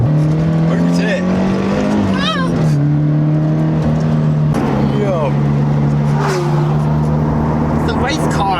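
A race car engine drones loudly and continuously, its pitch dipping and rising as it revs, while voices talk over the roar, on the A537 road near the Cat and Fiddle pub.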